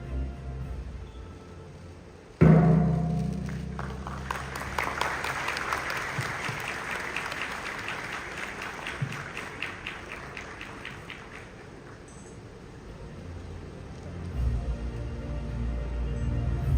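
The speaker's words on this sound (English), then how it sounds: "Another round of applause, ladies and gentlemen." A conference audience at the Global Public Relations Conference & Festival Malaysia 2025 breaks into sustained applause right after a ceremonial gong strike launches the event; a sharp resonant hit is followed by a long wave of clapping that gradually fades.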